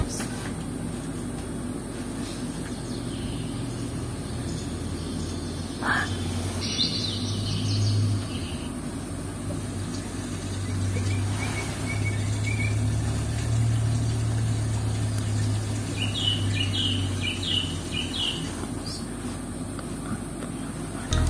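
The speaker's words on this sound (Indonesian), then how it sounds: "suara-suara burung" Scattered bird chirps and calls in a forest setting, fairly faint over a steady low hum of ambience, with occasional short bursts of tweets.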